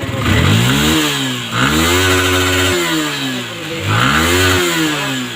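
A Yamaha Sniper 155 motorcycle engine, just repaired after an injector problem, running close and loud, revving up and dropping back in three repeated swells over a raspy steady drone, with no talking.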